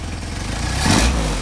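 A Mercedes 190SL on Solex carburetors catching on a hot start, its engine rumbling loud and close, then swelling briefly in a short rev.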